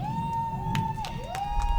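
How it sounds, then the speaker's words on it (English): Quincy High School class of 2020 graduates cheering at their graduation ceremony: a sustained crowd roar with scattered shouts and whoops, steady and loud throughout, heard over a continuous tonal background. "Graduates, after the count of 3, you may raise your caps and cheer."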